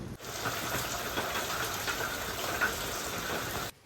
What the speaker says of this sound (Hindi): और बारिश भी थोड़ी थोड़ी मतलब कंटिन्यूसली हो रही है